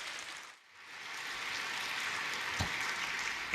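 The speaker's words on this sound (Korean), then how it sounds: "귀한 목사님 박수로 환영하며 말씀을 듣겠습니다." A church congregation at an early-morning prayer service in Los Angeles applauds to welcome the pastor. The applause swells after a brief lull and holds as a steady, full wash of clapping.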